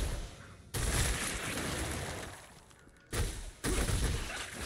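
A Monk's Wave Strike skill explodes in the video game Diablo Immortal, giving dense, crackling, gunfire-like bursts that start abruptly, fade into a lower rumble, then return as two more sharp blasts, loud and close with no talking.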